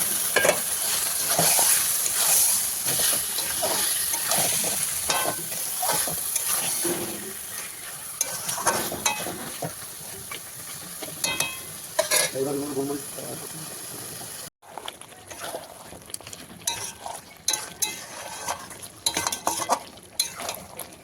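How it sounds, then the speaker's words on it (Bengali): Marinated mutton fries in spiced oil while being stirred for mutton kosha, a steady close sizzle broken by utensil scrapes and clinks, with a voice speaking at times in the kitchen. "এবার আমি ম্যারিনেট করা মাটনটা মশলার মধ্যে দিয়ে দেবো।"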